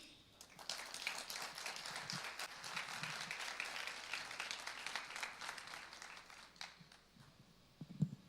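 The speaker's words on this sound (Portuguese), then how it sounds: "pode ser mais forte essas palmas aí, hein?" Audience applause at a church or business gathering, a dense sustained patter of many hands clapping, fairly faint and fading toward the end with a few scattered claps.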